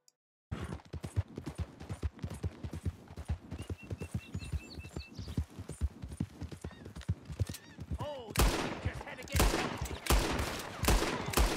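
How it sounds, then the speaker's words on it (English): In the video game Red Dead Redemption 2, a revolver fires several loud, sharp shots in the final seconds after a long stretch of rhythmic horse hooves galloping. "It's the revolver, and I'm gonna take this guy down. I'm gonna shoot him"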